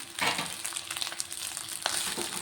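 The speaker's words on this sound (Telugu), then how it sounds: "ఇదంతా ఫ్రై అవుతుంది ఇప్పుడు ఇందులో మనం అన్నం వేసుకుందాం" Leftover rice fries in a tempering pan, giving soft crackling sizzles and occasional stirring scrapes at low volume.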